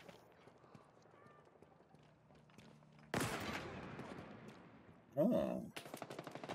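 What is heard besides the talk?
gunfire from a small gun in the video game Halo Infinite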